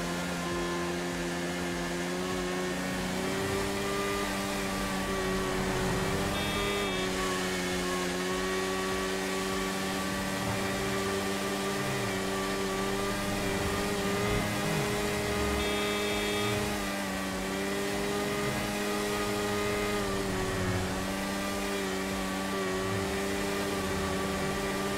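A motorbike engine in GTA V gameplay holds a steady high-pitched whine at sustained speed, loud and continuous with slight pitch wavers and no talk.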